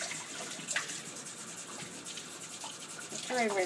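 A bantam Polish chicken is rinsed with water, a soft continuous trickle and splash close at hand, with a faint chirp near the end.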